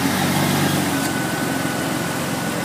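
A Jeep XJ engine runs loudly and steadily close by as the A/C compressor kicks on during a refrigerant recharge, a constant droning hum with no voices.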